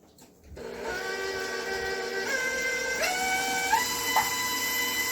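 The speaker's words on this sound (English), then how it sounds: "I'm going to turn my mixer back on and add eggs one at a time to my bowl" An electric mixer switches on and beats pumpkin cheesecake batter, a steady motor whine with tonal hums that shift in pitch as speed and load change, continuous and fairly close, no speech.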